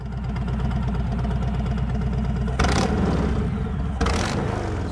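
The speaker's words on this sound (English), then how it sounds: "So here is at an idle with the exhaust that I've been running for over a decade" A Harley-Davidson motorcycle idles through its decade-old exhaust, a steady loping, throbbing rumble close by and loud, with two brief swells where the throttle blips slightly.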